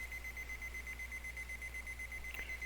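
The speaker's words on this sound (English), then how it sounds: "there's my timer" A kitchen timer alarm goes off in a survival game session, a steady high beeping tone held throughout, faint and repetitive with a brief click near the end, no voices over it.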